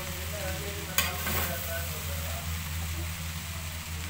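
Rice being stirred in a hot pan gives a continuous sizzle with a low hum beneath it. A single scraping stir sounds near the one-second mark, then the steady frying continues alone.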